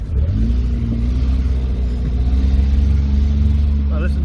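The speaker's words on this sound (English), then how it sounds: "this is that exhaust leak." Honda CR-V with a cracked, bent exhaust leaking, a low rumbling drone with a steady tone, close and loud, with people talking over it.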